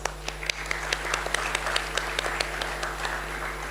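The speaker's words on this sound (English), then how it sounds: "Please welcome ma'am with a huge round of applause." A hall audience applauds to welcome someone speaker, a moderate spread of clapping with a few sharp individual claps standing out over a strong low electrical hum.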